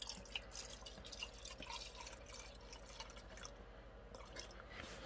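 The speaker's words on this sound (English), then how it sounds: "It's got a little drip there." Rubbing alcohol dripping from a measuring cup onto a workbench while mixing homemade acrylic thinner and airbrush cleaner; soft, faint wet ticks and drips come close over a quiet room hiss, with no speech.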